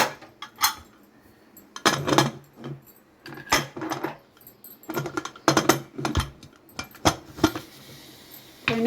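A metal lid goes onto a pot of bread biryani with a series of close clinks and clatters, scattered irregularly, some sharp and bright, others softer scrapes.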